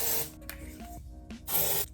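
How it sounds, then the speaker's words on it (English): Dove lemongrass deodorant aerosol sprayed on the armpits: a hissing burst at the start and another near the end, with quieter rustling and small clicks between, close up and without talking. "make sure you go ahead and spray them pits"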